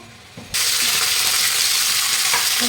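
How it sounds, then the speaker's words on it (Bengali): Mixed vegetables hit hot oil in a wok with a sudden loud sizzle, then fry with a steady, dense crackle. A few faint clinks come just before. "এখন সবজিগুলো হালকা ভেজে নেবো"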